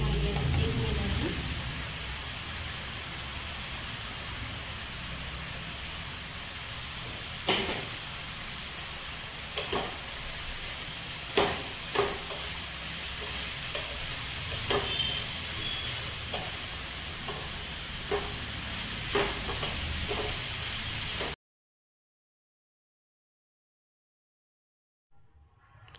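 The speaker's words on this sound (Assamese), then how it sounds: "মই এতিয়া ধুনীয়াকৈ ভাজি আছোঁ" Grated carrots fry in ghee in a pan for gajar ka halwa, a constant close sizzle and hiss broken by occasional scraping stirs, lasting about twenty seconds before cutting to silence.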